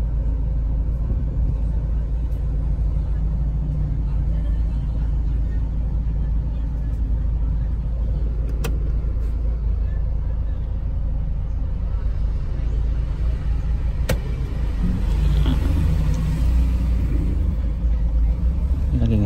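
A car with an ABS warning light being brake-tested on a narrow, congested road, giving a steady low road rumble and engine drone with passing traffic and brief clicks, under occasional talk.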